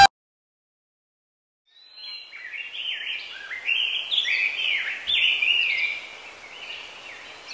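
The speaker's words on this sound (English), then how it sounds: "Birds are singing." Birds sing in Undertale, a cheerful run of high chirping notes that begins after a short silence and continues steadily, clear and fairly close.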